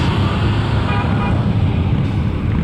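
A bus carrying veterans on an honor flight rolls past in a parade, a steady nearby traffic rumble with a brief horn-like toot, the vehicle moving at a good clip.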